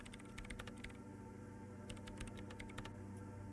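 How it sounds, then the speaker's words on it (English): Rapid typing on a computer keyboard in the game Disco Elysium, two bursts of quick clicking keystrokes over a steady humming background, close and fairly quiet. "her hands typing hundreds of commands into the machine"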